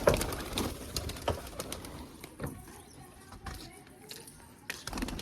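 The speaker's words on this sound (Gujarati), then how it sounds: "જો આ કબૂતર નીકળી ગયા." Soft pigeon coos and bird calls over a busy background, with occasional knocks and rustles; the cooing sits low and fairly faint.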